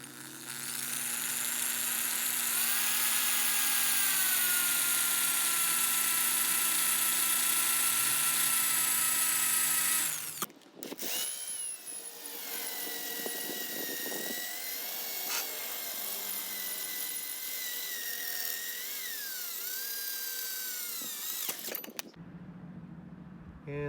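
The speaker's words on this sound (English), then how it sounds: "So I'll drill a small hole with that drill bit" A power drill bores a small pilot hole during an RV slide-out motor repair, running loud and steady for about ten seconds, then continuing with shifting pitch and brief pauses as the bit works through the material.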